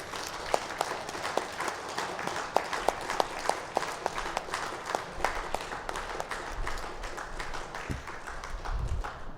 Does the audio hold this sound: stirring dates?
no